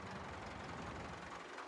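A rebuilt 185 tractor idles in Farming Simulator 22, a steady low mechanical rumble that holds evenly throughout with no other sounds over it.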